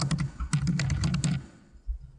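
Fast typing on a computer keyboard to enter a building name: a quick run of close, crisp key clicks that stops after about a second and a half, followed by quiet.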